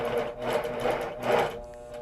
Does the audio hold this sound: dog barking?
no